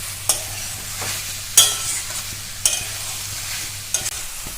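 Mutton kosha is stirred in a pan, the spoon scraping the metal in a few distinct strokes over a steady low sizzle of frying meat, close and without speech.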